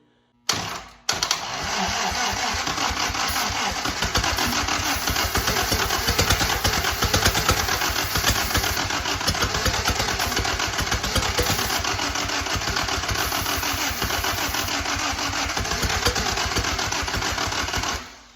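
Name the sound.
WWII-era vehicle engine running and backfiring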